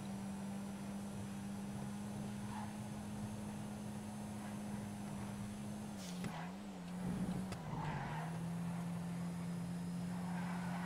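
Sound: car cornering with tires squealing in GTA video game

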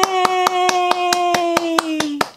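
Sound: hands clapping

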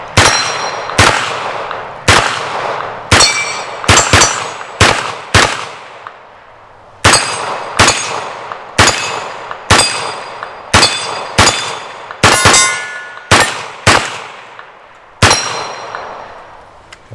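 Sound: CZ Scorpion EVO 3 9mm firing, hitting steel targets

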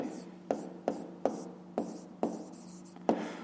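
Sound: writing by hand

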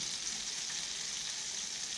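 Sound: vegetables sizzling as added to pan for pav bhaji

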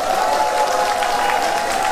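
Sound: audience applause welcoming the county governor

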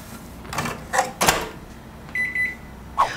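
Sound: microwave oven heating potato

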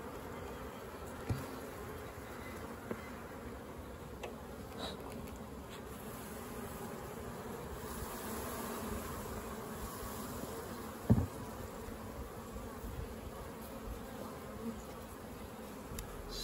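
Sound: honey bees buzzing at open hive

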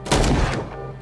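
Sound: gunshots in the video game Call of Cthulhu

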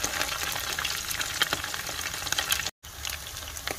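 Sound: frying dried fish until golden

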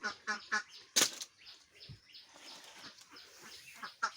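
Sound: ducks in a duck-rearing shed

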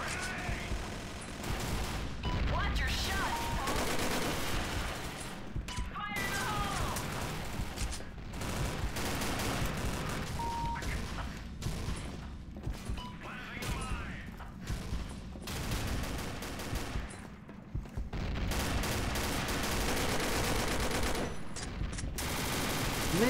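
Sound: gunfire in the video game Combat Arms Reloaded

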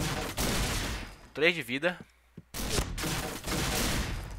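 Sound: gunshots in a video game

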